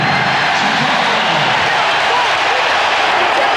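Basketball arena crowd at an NBA Finals game between the Chicago Bulls and Seattle SuperSonics, a loud sustained roar of cheering filling the whole moment, with a commentator's voice over it.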